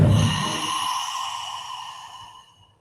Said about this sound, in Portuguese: Puxa o ar pelo nariz. Solta pela boca.